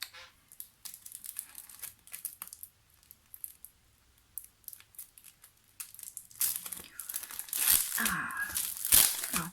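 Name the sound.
plastic packaging of scrapbooking paper crinkling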